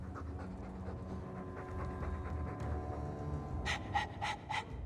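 Loud, close dog panting from Dragon Age 2 runs in a fast, steady rhythm of huffing breaths, growing sharper and more forceful toward the end.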